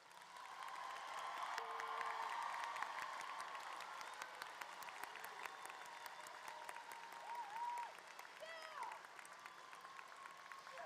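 A large crowd at a Moore High School 2023 commencement ceremony applauds honor graduates, sustained clapping that swells and then gradually thins, heard from some distance in a big hall, with faint whoops over it.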